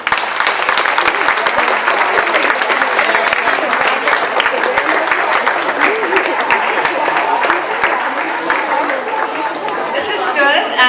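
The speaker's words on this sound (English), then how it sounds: "Let's welcome Mr. Reid with a round of applause" School assembly audience of boys and girls applauding to welcome an author, loud sustained clapping mixed with children's chatter throughout.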